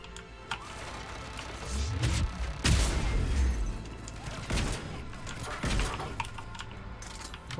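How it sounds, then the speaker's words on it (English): Turret gunfire from the video game Mass Effect 3, bursts of sharp impacts and mechanical clatter at moderate loudness, with a stronger volley in the middle under game ambience. "Oh, it's a turret."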